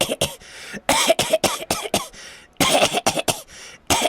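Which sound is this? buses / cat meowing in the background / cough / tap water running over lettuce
cough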